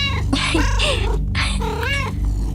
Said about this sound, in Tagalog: Pusa! Pusa!